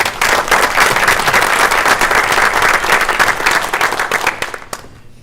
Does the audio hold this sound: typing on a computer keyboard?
no